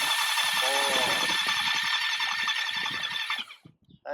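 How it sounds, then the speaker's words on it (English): The engine of a 1982 Yamaha Maxim 650 motorcycle cranks over freely with a steady high whine and rattle for about three seconds before cutting off. A voice speaks over it. "that's the sound of a free spinning engine."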